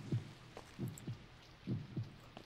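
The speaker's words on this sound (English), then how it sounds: "Why can I hear my heartbeat again?" Heartbeat thumps in the horror video game Paralysed, low and soft, coming in paired lub-dub beats at a steady slow rhythm against a quiet background.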